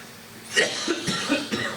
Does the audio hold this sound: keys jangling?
no